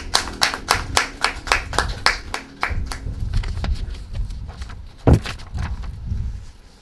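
An audience claps at a community forum of Adjamé residents held in New York, with a run of distinct, fairly close handclaps at first, then denser overlapping applause that continues to the end.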